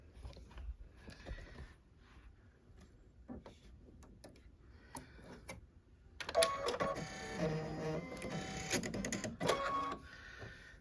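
An embroidery machine stitching a design with a quilting glide thread: light mechanical ticking and clicking at first, then a louder, busy rattling hum of rapid stitching, close and without talk.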